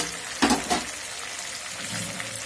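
Shukto vegetables with home-made fried bori are stirred in a frying pan, a few close scraping strokes over a steady soft sizzle.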